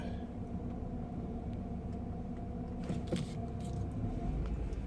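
A 17-year-old car driving down the street, heard from inside as a steady low engine and road rumble with a few faint rattles and knocks partway through.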